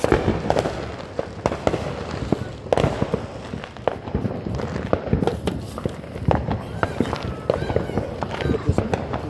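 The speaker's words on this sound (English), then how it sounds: "Try not to get hit by fireworks." July 4 fireworks and firecrackers go off in rapid, irregular bursts of sharp cracks and pops, loud and close, with footsteps and people talking between blasts.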